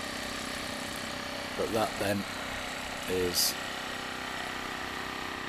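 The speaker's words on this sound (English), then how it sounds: "if you can hear me over the jackhammer" A jackhammer runs nearby as a steady, droning mechanical rumble that fills the background throughout. Someone speaks briefly over it outdoors.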